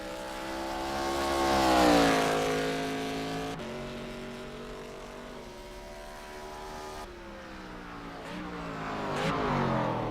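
A race car in iRacing on the Indianapolis road course runs over rumble strips. The engine's whine rises and falls through the corners, with a few brief jolts and rattles.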